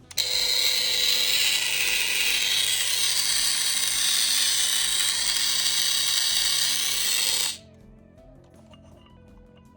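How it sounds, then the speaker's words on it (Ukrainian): A Dremel 575 rotary tool fitted with an angle attachment runs at minimum speed, a loud, steady high whine with gear chatter for about seven seconds before cutting off abruptly into near silence. "Давайте послухаємо, як вона працює. Мінімальні оберти."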